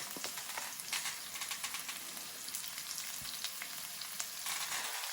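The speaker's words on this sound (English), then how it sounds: "Louder the sizzle, crustier the crust." A steak sizzles loudly in a hot pan, the crackle and spit of frying steady with small pops throughout.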